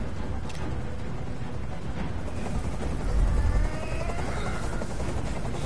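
A helicopter in the video game Detroit drones loudly and continuously overhead, its rotor wash a dense, steady roar that swells briefly near the middle.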